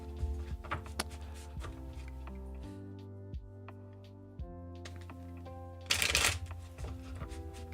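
Crisp riffling and snapping of a deck of tarot cards being shuffled several times, close up, with pauses between shuffles and no talking.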